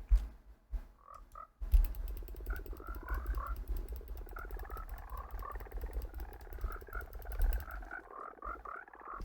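A frog croaks in a repeated, rattling series of short calls that carries on steadily with no voices over it.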